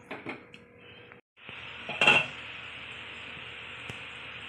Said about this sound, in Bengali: একটু ঢেকে দেবো।